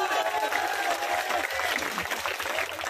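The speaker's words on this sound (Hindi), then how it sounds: "अपन विधायक के लिए जोरदार एक बार ताली बजाओ।" A seated crowd at a lively local event applauds their MLA with steady, dense clapping that runs throughout, while a voice speaks over the noise.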